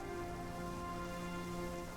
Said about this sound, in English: Terrible rain conditions.